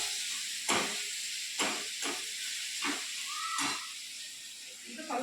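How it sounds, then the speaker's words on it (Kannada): Ginger and garlic frying in a little oil, a steady bright sizzle and hiss with several sharp crackling bursts as the pan is stirred, under a person talking. "ಶುಂಠಿ ಮತ್ತು ಬೆಳ್ಳುಳ್ಳಿ ಸ್ವಲ್ಪ ಎಣ್ಣೆ ಒಳಗೆ ಫ್ರೈ ಆಗಬೇಕು"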